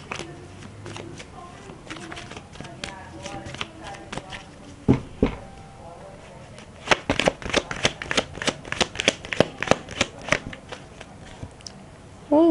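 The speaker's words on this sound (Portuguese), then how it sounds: "Deixa eu embaralhar de novo." Tarot cards being shuffled by hand, a series of close, crisp riffling and slapping bursts that grow busier toward the end, with someone speaking Portuguese now and then in the background.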